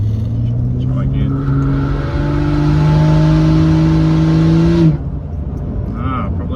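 A turbo car engine fitted with a GTX3582R turbo and a 44mm external wastegate revs up hard and loud, its pitch climbing steadily for several seconds before dropping sharply back toward idle.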